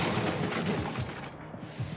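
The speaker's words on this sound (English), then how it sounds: "Barricades can also be destroyed by gunfire." Gunfire in Rainbow Six Siege, a rapid fusillade of muffled shots tearing at a wooden barricade, dense and fairly faint, tapering off after the first second or so.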